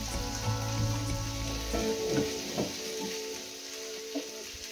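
Shrimp fry in a pan with salt and half a spoon of turmeric powder, a close steady sizzle with crackling pops and a few stirring scrapes, the hiss easing toward the end.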